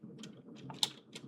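Keystrokes on a computer keyboard while a web search is entered, a quick irregular patter of about half a dozen close, soft clicks with one sharper tap near the middle, no voices.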